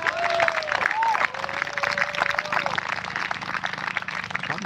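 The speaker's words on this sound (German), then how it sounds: "Schaut mal, wie die alle klatschen hier." Audience clapping fills a hall at a talk on mask rules, steady dense applause throughout with a tonal whistle or feedback line gliding above it.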